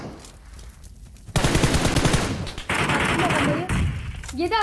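Gunfire in PUBG Mobile, with a loud sustained automatic burst breaking out after a quieter start, then further rapid shots, and a short chirpy game sound at the end, with no talking.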